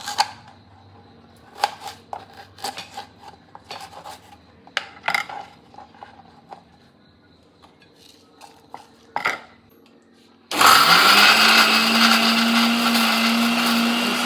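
Quiet kitchen clinks and taps of dishes and utensils give way to a mixer grinder whirring loudly for several seconds, grinding cashews, peeled garlic, Byadgi chillies and ginger with salt, a steady high-pitched motor roar.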